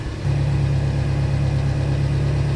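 A Toyota Tacoma pickup engine, after a full head rebuild, idles steadily with a low, even hum that starts just after the opening and holds constant, close and fairly loud.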